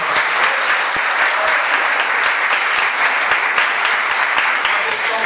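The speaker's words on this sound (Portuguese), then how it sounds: "Você pode dar uma salva de palmas?" Loud, sustained applause from a church congregation, many hands clapping in a thick continuous roar that stays even throughout, with some crisp individual claps standing out and no clear talk over it.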